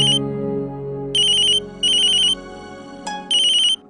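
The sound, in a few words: phone ringtone ringing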